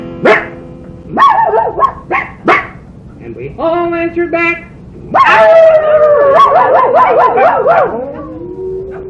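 People imitating a dog with voiced barks, yips and a drawn-out howl, several short bursts followed by a longer wavering howl, loud and close.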